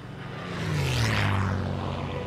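Glider airplane in the video game Knack II flying past, a droning engine hum that swells and its pitch bends downward as it passes, steady and moderately loud with no talk.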